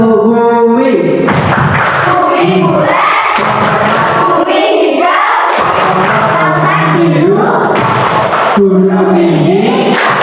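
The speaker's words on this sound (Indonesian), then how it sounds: "kita melakukan tepuk terlebih dahulu. Judulnya tepuk bumi dulu" Fifth-grade schoolchildren standing in a classroom chant together while doing a rhythmic group clapping game, loud voices mixed with patterned claps and stamps in bursts throughout.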